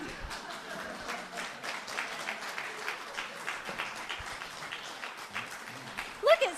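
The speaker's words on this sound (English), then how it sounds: "They're clapping for you." A church congregation applauds the men called forward, a light, fairly distant patter of many hands sustained for several seconds, with a voice speaking briefly at the end.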